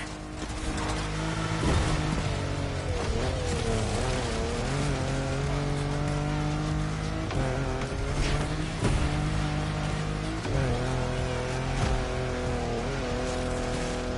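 Car engine revving and surging over rough ground in The Crew Motorfest, loud and close, with repeated rises and drops in pitch, occasional tire scrubs and thumps.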